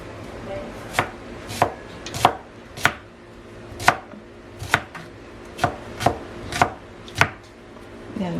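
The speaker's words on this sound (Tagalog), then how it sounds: "So, slice na lang natin siya." Knife strikes on a cutting board as food is sliced for a chicken and broccoli dish, about a dozen sharp, evenly spaced chops, close and clear with no talking.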